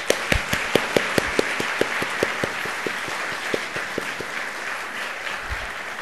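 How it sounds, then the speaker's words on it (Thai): A seated audience applauds to honor Khun Boonyasit Chokwatana at a lecture event, with a steady round of clapping and several sharp, close individual claps standing out over the crowd. "ขอให้ทุกท่าน ปรบมือให้เกียรติคุณบุญยสิทธิ์โชควัฒนาครับ"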